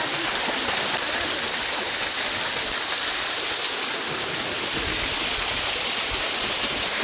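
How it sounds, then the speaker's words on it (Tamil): Kumbakkarai waterfall in Theni pours in a steady, loud, broadband roar of rushing water, unbroken and close throughout, with no voices. "மக்களே கும்பக்கரை அருவியில் தாங்க இருக்கிறோம்."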